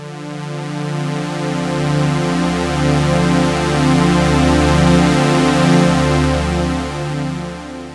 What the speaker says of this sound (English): So that unison engine is giving it a lot of warmth and depth.